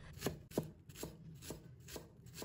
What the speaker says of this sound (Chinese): 然后再改刀切成葱花